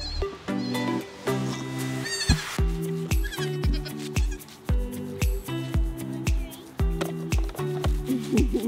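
Several goats bleat repeatedly, loud and close, their wavering calls overlapping in an irregular rhythm.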